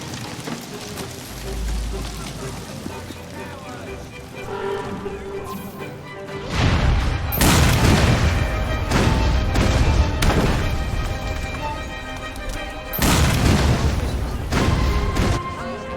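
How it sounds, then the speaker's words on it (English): In-game explosions in Assassin's Creed Syndicate: loud broadband crashing booms surge in around the midpoint and again near the end, layered over a game soundtrack with rumbling debris, with no voices. "Doesn't need to watch the explosion."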